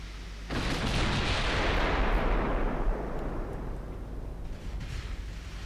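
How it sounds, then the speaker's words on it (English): A naval cruiser fires its guns in the Ultimate Admiral Dreadnoughts warship game: one heavy, booming salvo hits hard, then rolls into a long, fading rumble that lasts several seconds. "The cruiser is firing from stealth."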